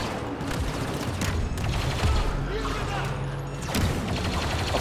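Blaster gunfire from the multiplayer mode of the Star Wars Battlefront 2 video game crackles in dense bursts and volleys, with heavier booms near the end, while a player talks over the action.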